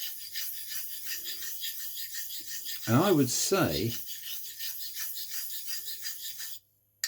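A hollow ground razor, Hamburg type, slides over a coarse sharpening stone with a raised slurry, giving a soft, rhythmic rasping scrape that swells in the middle. Someone speaks briefly at the start.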